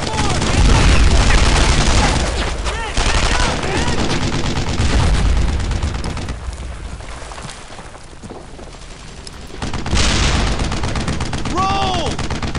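Dense gunfire and machine gun bursts fill a World War II firefight in the video game Brothers in Arms: Earned in Blood, loud and continuous with heavy booms, and a voice shouting over the battle.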